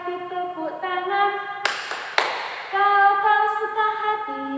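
Two sharp hand claps ring out over the sung children's song "Kalau kau suka hati tepuk tangan" with steady accompaniment.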